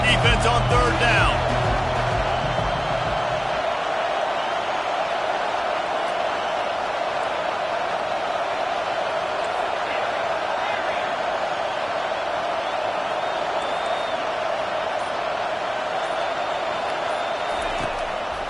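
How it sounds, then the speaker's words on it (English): Football stadium crowd at an LSU versus UConn game roaring steadily behind the defense on third down, a dense sustained wash of cheering that holds loud throughout, with a commentator's voice riding over it. "Decibels rising as the crowd gets behind this defense on third down."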